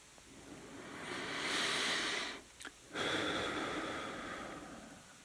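Slow, deliberate breathing during guided meditation: one long airy inhale that swells and fades, a brief pause, then a drawn-out exhale, close and soft, with no talking.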